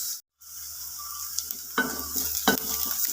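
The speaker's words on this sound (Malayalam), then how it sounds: "ഇത് നമുക്ക് ഒന്ന് വഴറ്റി കൊടുക്കാം" Chopped onions sauté in a pan for chicken curry with a soft, steady sizzle. A spoon scrapes and stirs against the pan now and then, and after a brief silent gap near the start the sound carries on without talk.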